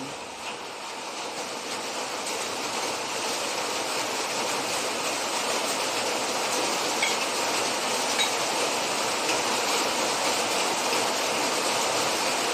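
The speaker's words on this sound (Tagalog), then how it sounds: "Ngayon pa nitong ulan." Rain falls outdoors during an afternoon of cooking hot cakes for a snack, a dense, even hiss that holds steady and unbroken from start to finish with no voices.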